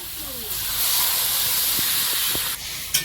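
Water poured into a hot cooking pan gives a loud, sustained steamy hiss that starts abruptly and holds, with a few small clatters near the end.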